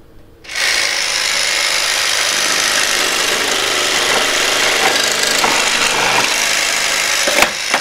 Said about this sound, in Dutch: We nemen een plank en die zagen we dan door midden.